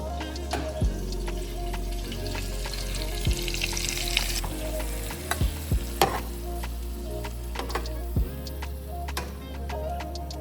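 Shrimp frying in a hot skillet, a steady close sizzle with light stirring scrapes and a few sharp ticks of utensil against the pan; no talking.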